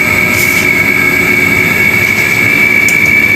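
An LG dual inverter air conditioner runs steadily after cleaning, its compressor and fan giving a loud, constant hum with a high whine, with no voices.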